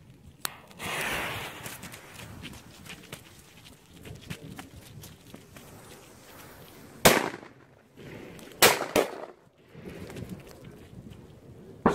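FV3 firecrackers go off in several sharp bangs, one after another, at a moderate distance outdoors, with a few faint pops and crackles between them and no talk.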